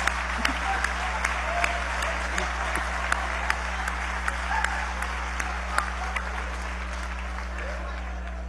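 Steady applause from a crowd at a session of Venezuela's National Constituent Assembly, dense clapping sustained throughout at a fairly even level, with a low hum underneath.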